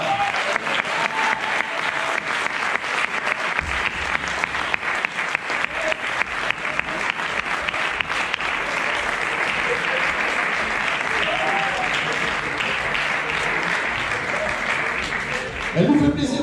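An audience at a trail-running race welcome conference applauds loudly and steadily for a runner. The clapping is dense and sustained throughout, with a few voices faintly audible beneath it.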